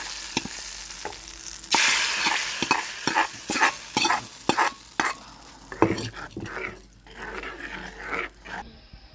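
Browned fried prawns are stirred into a curry, with rhythmic scraping and clattering of a spoon against the pot over a sizzling bed, the strokes loud and irregular.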